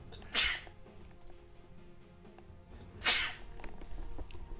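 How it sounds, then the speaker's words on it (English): A person sneezes twice, about three seconds apart, each a sharp close burst over quiet room hum during a live commentary of a Gosu League Division 1 game. "I have to sneeze, so 1 second"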